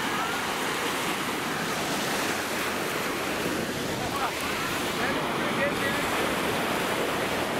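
Sea waves wash continuously onto Cleopatra Beach in a broad, steady surf roar, mixed with wind buffeting the microphone and no clear foreground sound.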